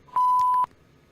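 A single pure electronic censor beep from podcast editing software, about half a second long, clean and steady with no other sound around it.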